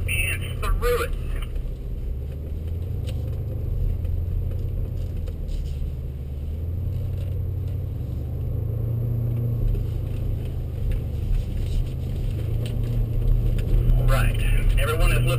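A BMW X5 on a Performance Center driving course rolls under a bridge, a low steady engine rumble and tyre drone heard from inside the vehicle while an instructor talks over it.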